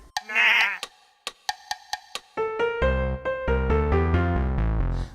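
A goat gives a single wavering bleat near the start, followed by a run of sharp clicks and then music playing steadily to the end.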